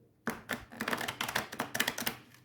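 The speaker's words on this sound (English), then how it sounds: "Yeah, riffle shuffle's okay." Riffle shuffle of a Tarot de Marseille deck, a rapid train of close, crisp card flutters and snaps that builds into a quick ripple over about two seconds, quiet and heard alone.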